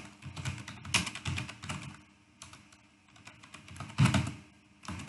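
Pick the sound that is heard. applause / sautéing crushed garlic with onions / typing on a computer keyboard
typing on a computer keyboard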